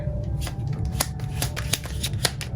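Tarot cards being shuffled by hand give a string of crisp riffling bursts and soft slaps over a low background hum, close and steady for a couple of seconds.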